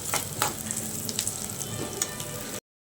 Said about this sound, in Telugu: అన్ని పచ్చాసం పోయే వరకు కొంచెం వేయించుకుందామండి.